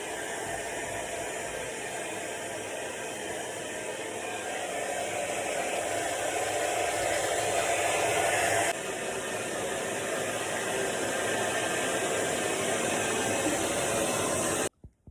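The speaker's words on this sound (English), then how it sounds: "we're gonna blow dry it and see if we can see any hint of red." A hair dryer blows steadily close by with a loud, constant airy roar that holds throughout before cutting off abruptly at the end.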